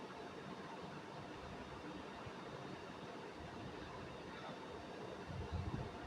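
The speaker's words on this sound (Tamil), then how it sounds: "இதான் நம்ம ட்ரெயின்." A train moves in the Roblox video game, a low steady rumble of rolling rail cars running quietly throughout with a slightly louder patch near the end and no talk.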